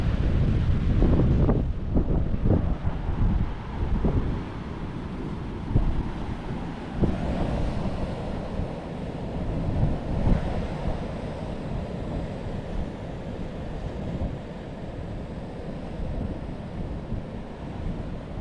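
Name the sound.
strong wind at the seashore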